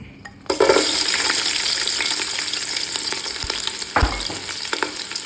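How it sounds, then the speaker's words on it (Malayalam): Green chillies, chopped ginger and garlic hit hot oil with a sudden loud sizzle that settles into a steady crackling fry. Stirring scrapes and knocks can be heard, and no one speaks. "ഞാനിതിലേക്ക് ഒരു 6 പച്ചമുളക്, ഒരു 50 ഗ്രാം ഇഞ്ചി അരിഞ്ഞത്, 50 ഗ്രാം വെളുത്തുള്ളി ആഡ് ചെയ്ത് കൊടുക്കുകയാണ്"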